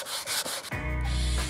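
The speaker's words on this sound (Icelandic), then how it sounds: "Ein leiðin er að ná sér bara í spýtu og sandpapír og slípa þetta bara svona upp" Terrazzo grooves being hand-sanded with sandpaper wrapped on a wooden stick, giving a close, steady scraping rub that shifts partway into a smoother, sustained grinding tone, with no voices.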